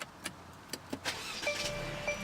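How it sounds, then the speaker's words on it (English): A 2016 Mercedes C300 starts by push button, with a few soft clicks followed by the engine catching and settling into a steady, close idle hum. "and the car is started"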